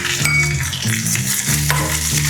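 Cumin, urad dal, crushed garlic, dried red chili and curry leaves frying in hot oil for a buttermilk curry, a steady close sizzle with stirring scrapes.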